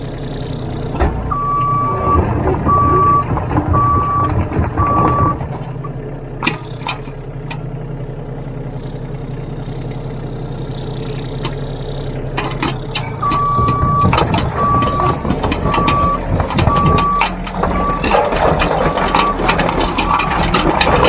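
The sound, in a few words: digging machine driving with reversing beeps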